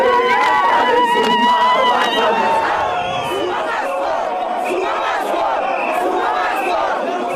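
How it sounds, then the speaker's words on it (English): A large crowd at a COSATU Workers' Day rally shouts and jeers at President Zuma, a dense roar of voices rising and falling with scattered louder cries throughout. "Zuma is booed and leaves without speaking."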